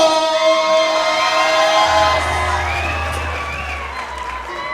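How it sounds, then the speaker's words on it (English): Crowd cheering and whooping for Muay Thai fighter Katelyn Ross at her ring introduction, loud sustained shouts and applause with an announcer's ringing voice fading into the roar. "Sounds like Katelyn has a pretty good crowd out here tonight supporting her."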